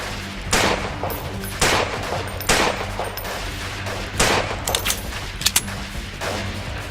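Rapid volleys of gunfire from a combined ArmA and Mount and Blade guerrilla warfare game, with repeated sharp bursts and scattered single shots over a steady battlefield rumble.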